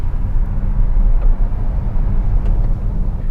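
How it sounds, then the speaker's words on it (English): A Hyundai Ioniq 5 all-wheel-drive electric car accelerates hard, heard as a loud, steady low rumble of road and wind noise from inside the cabin with no engine note. "There's absolutely nothing like the takeoff you get when you hit the pedal on an electric car."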